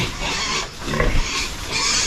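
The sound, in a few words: pigs grunting on a farm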